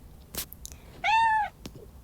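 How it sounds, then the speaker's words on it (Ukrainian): An old cat gives one clear, drawn-out meow at close range, with a few faint clicks and rustles around it in an otherwise quiet room. "Дивіться, дідусь кіт."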